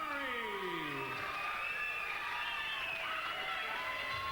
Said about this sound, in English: Fantastic round of applause here for Tim Dury